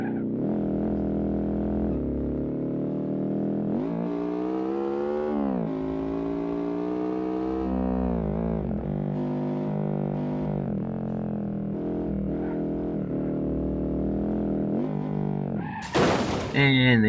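In BeamNG.drive, a car's engine whines and revs steadily for a long stretch, then ends in a brief, loud crash with a sharp impact and shattering burst near the close.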